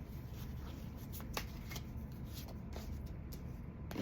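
Tarot cards being shuffled to draw a clarifier card, a soft, continuous riffling and sliding of card stock with a few brief crisp flicks, faint and steady for the full few seconds, with no talking.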